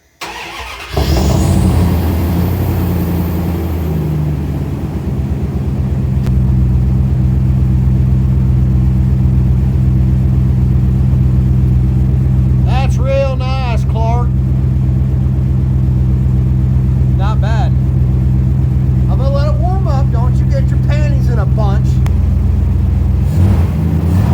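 A car engine cold-starts with a brief crank, then settles into a loud, steady, rich-running idle that rumbles throughout, with a few chirping squeaks partway through.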